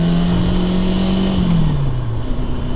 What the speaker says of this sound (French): ce petit moteur 4 cylindres à l'arrière qui fait pas mal de bruit à l'extérieur